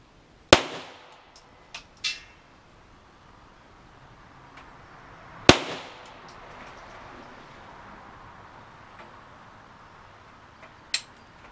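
Sharp rifle shots from a Browning 10/22, three distinct cracks spaced seconds apart with a few fainter clicks and knocks between, fairly close and loud against quiet outdoor background.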